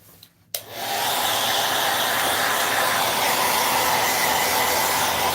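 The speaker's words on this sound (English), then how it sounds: "Back with the hair dryer." A hair dryer switches on and blows steadily to dry an upcycled craft project, producing a loud, close, continuous whooshing hum after a brief quiet start.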